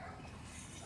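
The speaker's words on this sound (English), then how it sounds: "It must be next to these people with these obnoxious ass dogs." Several dogs bark and yip near a family's spot in the woods, a brief, busy burst of barking at close range with no talk over it.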